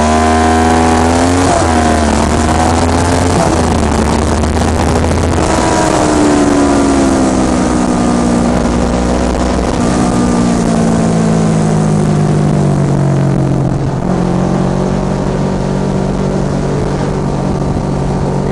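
A motorbike ridden slowly at about 20 km/h in traffic, its engine drone steady and close with rising and falling pitch as the throttle changes, plus wind noise and no talk.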